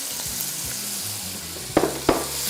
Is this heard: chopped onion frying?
yes